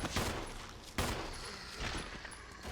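Rapid handgun fire in Resident Evil HD Remaster, a magazine emptied into enemies, with sharp repeated shots close up over a dense game background, no talk.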